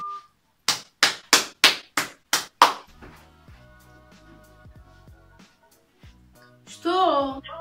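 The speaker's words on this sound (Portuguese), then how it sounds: "Palmas ao António, palmas" Several sharp claps in quick succession, seven or so close hand claps alone before a quiet stretch, followed by a voice speaking.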